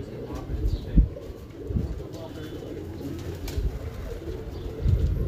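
Pigeons coo softly in low, repeated murmurs close by, with faint background voices.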